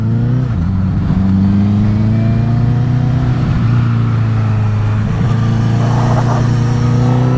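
A Kawasaki 650 motorcycle rides hard on a road, its engine droning loud and steady close by, the pitch rising and falling through gear changes with continuous wind rush.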